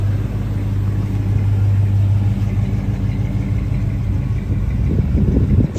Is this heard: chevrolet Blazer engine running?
yes